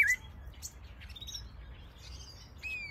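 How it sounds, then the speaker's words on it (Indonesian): A robin sings in a few quiet, scattered chirps and short whistled phrases over a low steady background rumble. "Burung robin."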